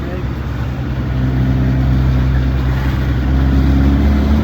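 A vehicle engine with its exhaust refitted, idling and revving on a snowy road, a loud, low continuous rumble close to the microphone, with a slight rise partway through.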